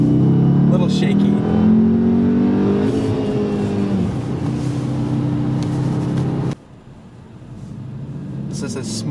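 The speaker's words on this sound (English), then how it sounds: "I'm gonna attempt to floor it here and see how I am in my shifting." A manual-transmission car is floored by a learner driver, its engine revving up in rising pitch sweeps, dropping at each gear shift and then building again. A person talks over the engine noise.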